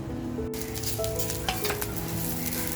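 Grated coconut roasts in a hot pan, a dense continuous sizzle and crackle with stirring scrapes, loud and steady throughout.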